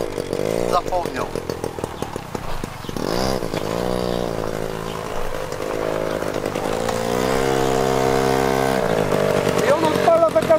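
A two-stroke engine, likely a motorcycle, starts and runs with a loud buzzing drone and revs that rise and fall across the whole stretch. It is close and continuous, and people talk over it.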